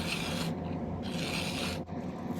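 A hand file rasps against a silver cuff bracelet in steady back-and-forth strokes, close and fairly quiet, with a brief pause near the end.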